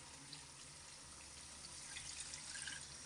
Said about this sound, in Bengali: এই ধুয়ে পানিটা দিয়ে দিলাম।